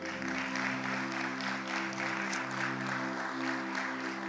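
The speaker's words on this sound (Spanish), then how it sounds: "¿Cuánto le pueden dar un aplauso al Señor?" A church congregation applauds, a continuous dense clapping carried over sustained low musical tones from the service, steady in volume throughout.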